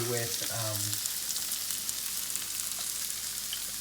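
Chopped onions and freshly pressed garlic fry in a pan with a steady, close sizzle that holds evenly throughout, while a voice sounds briefly at the start.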